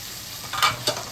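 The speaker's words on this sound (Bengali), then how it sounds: "মশলাটা একটু নাড়িয়ে দিচ্ছি।" Spice masala frying in oil for kabuli chana, stirred in the pan, a steady sizzle broken by two quick scraping stirs close by.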